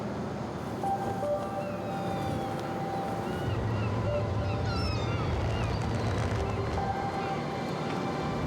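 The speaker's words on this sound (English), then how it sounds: "We're just sailing out of harbour now" A boat sails out of a harbour toward Arctic ice, a steady low rumble with wind and water wash, moderately loud and continuous, with faint voices in the background.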